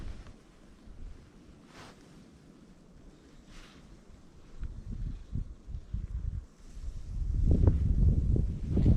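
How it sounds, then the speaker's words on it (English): Low rumbling wind buffets the microphone while fishing by water, growing stronger and gustier toward the end, with faint water in the background and no speech. "It's very windy today, which doesn't bode well because we're casting into the wind"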